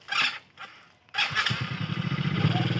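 A small children's motorbike engine sputters, cuts out briefly, then starts and settles into a steady, close puttering idle.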